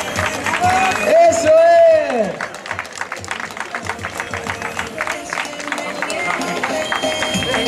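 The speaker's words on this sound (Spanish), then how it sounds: "Ese fortísimo aplauso a esta pedazo de imagen." Spectators clap steadily and cheer for young runners finishing a 2018 popular footrace in Carballedo, sustained crowd applause with a loud announcer talking over it throughout.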